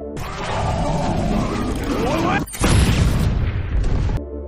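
A loud, rumbling film explosion of a ship blowing up with zombies aboard fills the scene with dense booming noise, briefly cut off, then a second blast continues before ending abruptly; narration runs beneath.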